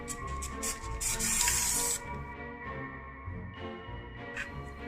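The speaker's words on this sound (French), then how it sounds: "Je vais ensuite passer de la bombe couleur bronze sur la clé et légèrement sur les ailes." A can of bronze spray paint spraying a key ornament, a close, loud hissing burst of about a second with shorter spurts around it, set against a quiet background.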